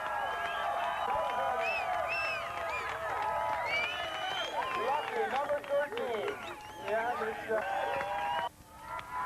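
A motocross crowd at the 1990 Gatorback 125/250 race cheers and whoops for the winner, Ricky Johnson. The roar is steady and fairly close, with excited voices rising through it.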